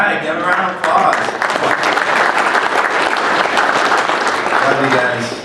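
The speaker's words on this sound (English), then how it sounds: "give them a round of applause" Loud, close applause fills a baseball Hall of Fame induction ceremony at a hotel banquet. Sustained clapping from the crowd is mixed with voices and cheering throughout.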